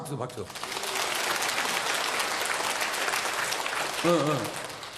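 A church congregation at Daejeon Jungmun Church claps together in a dense burst lasting roughly four seconds, with a voice briefly heard just before and right after the applause.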